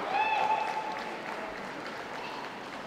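Applause from the audience at the City of Birmingham Dog Show 2016, toy group shortlist, makes a steady wash of clapping from a crowd, moderately distant, tapering slightly toward the end.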